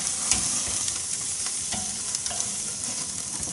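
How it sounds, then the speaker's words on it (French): Squid and octopus grilling over charcoal give a steady, close sizzle and crackle with faint scattered pops throughout, and no voices. "On fait griller."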